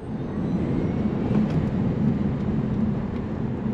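A 2022 Tesla Model S Plaid at full throttle gives a steady, loud, broadband rushing roar with a low hum, unbroken for several seconds and free of speech.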